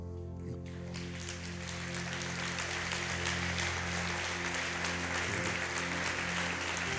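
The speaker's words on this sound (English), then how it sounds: "we're going to go nuts clapping for you" A church congregation applauds in steady, dense clapping that fills a large room for several seconds, and a low hum runs underneath.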